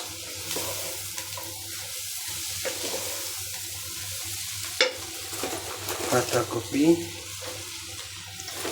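Cabbage and other vegetables tossed and stirred in a hot pan with shrimp, a steady sizzle with scraping stir strokes that swell louder toward the end, heard alone without talk.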